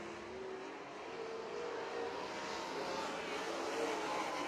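Race cars lapping a racetrack in an evening race, a continuous distant engine drone that swells slightly as cars pass, faint and steady with no voices.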